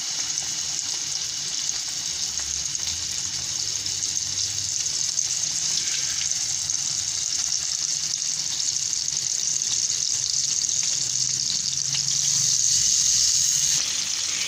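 Chapli kebab shallow-frying in hot oil gives a steady, even sizzle that holds close and moderately loud throughout, with no voices.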